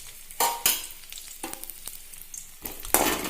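Garlic frying in coconut oil in a pan, with sharp bursts of sizzling and stirring clatter coming and going in short spurts, fairly quiet and close, no talking.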